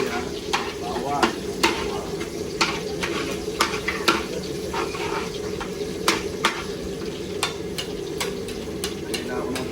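Onion, ginger and garlic sautéing in a pan, with a steady sizzle under repeated sharp scrapes and clinks of a utensil stirring against the pan.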